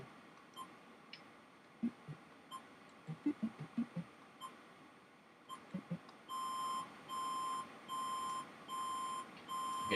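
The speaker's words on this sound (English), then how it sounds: "it said it was supposed to give a busy signal" An NES game's phone busy signal plays as six evenly spaced electronic beeps, each about half a second long with short gaps between them. Scattered clicks and taps come first, with no talking.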